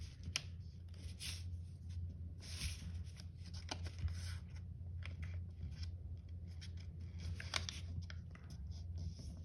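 A sheet of paper is folded and creased to make a paper space shuttle, producing close crinkling, sliding and sharp crisp creasing sounds in irregular bursts over a low background hum.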